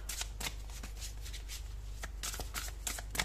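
Tarot cards shuffled by hand in a close, crisp riffling flutter of repeated rapid bursts, quiet overall with no talking.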